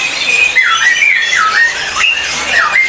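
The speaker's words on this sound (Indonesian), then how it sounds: "Kita bisa pantau bareng ya buat burung Susarowonya gacor." A Susarowo songbird at a bird market gives loud, repeated whistling calls with rising and falling sweeps, close by and clear, with no talk over it.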